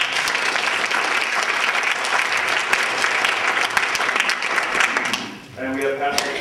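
Audience applause for a speaker introduced at a debate on God and morality held in a church, dense steady clapping that fades near the end as a voice begins.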